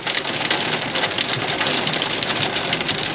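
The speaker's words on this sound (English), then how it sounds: "It's just a little hailstorm, nothing else." Hail drums steadily on a moving car, a dense, loud, continuous patter of hits on the body with no voices.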